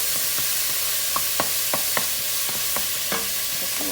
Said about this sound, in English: I'm gonna move it around, just allow it to cook out just a little bit,